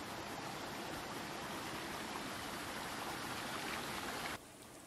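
Water rushes steadily down a canal that feeds a traditional wooden water mill in Gilgit-Baltistan. The flow is close, loud and dense, and drops off abruptly near the end.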